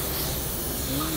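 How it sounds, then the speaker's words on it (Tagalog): Refrigerant escapes from the expansion valve fitting on the evaporator of a Hyundai Accent car AC system as a steady, close, broadband hiss lasting the whole short moment. "kasi may singaw dito sa pagkabit ng expansion valve"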